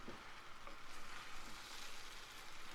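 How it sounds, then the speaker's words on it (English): Brown rice pasta tossed with vegetables in a pan, a soft, continuous sizzle with light stirring and scraping, faint and close, with no voices. "Now it's time to toss the pasta in."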